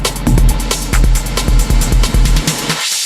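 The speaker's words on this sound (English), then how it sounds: "So we've got a nice high-pitched tail there." A reverb effect on a Pioneer DJM-900 Nexus DJ mixer washes over a loud, punchy beat with rhythmic kick hits, and the track cuts off near the end, leaving a brief high-pitched reverb tail.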